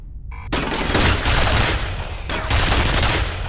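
Rapid, loud turret machine-gun fire from the F.E.A.R. shooter game rattles in continuous bursts for several seconds, dense and close, with short lulls between volleys.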